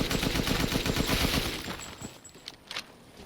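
Sustained automatic gunfire in Resident Evil Village, a fast, even stream of loud shots lasting over a second, followed by a couple of sharper isolated reports and quieter clatter.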